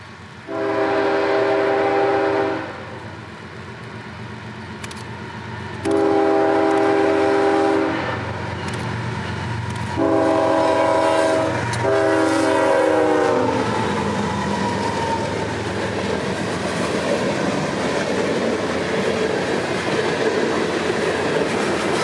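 A CSX freight train horn blows in three long blasts, followed by the steady rolling rumble of the train passing nearby at track speed.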